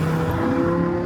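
A Dinan-tuned BMW E60 M5 with its V10 engine in M mode pulls hard in a steady, loud, continuous drone heard from inside the car, with no talking.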